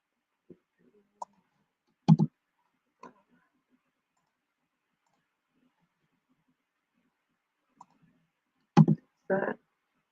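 Sparse, crisp computer mouse clicks while editing nodes in Inkscape, a few single clicks and a couple of close double clicks separated by long silences, near and fairly quiet.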